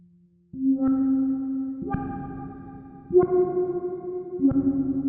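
A synthesizer tone is retriggered about every second and a quarter, each note's brightness opening up gradually after the attack in a slow filter sweep.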